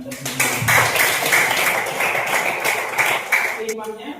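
Classroom of children clapping their hands in applause, a steady rhythmic patter of many hands lasting a few seconds at moderate loudness, with voices mixed in.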